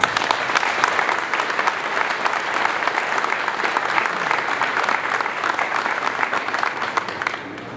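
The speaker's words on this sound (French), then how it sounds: "Je vous demande de les applaudir." Sustained audience applause at the opening of a trade fair, a dense, even wash of many hands clapping that holds steady for several seconds before easing slightly at the end.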